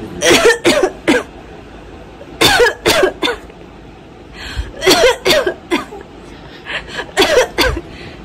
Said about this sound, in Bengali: কাশি শুনলে যে কেউ হাসে